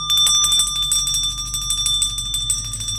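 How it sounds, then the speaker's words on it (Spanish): A small bell rings continuously in quick, repeated strikes, bright and close, keeping up a steady jingling for the whole stretch with no talking. "la campanilla no dejaba de sonar"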